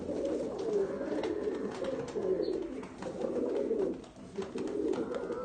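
A pedigree pigeon kept among other breeds gives a run of low, rolling coos, close and fairly loud, repeating in rhythmic bursts with brief pauses between.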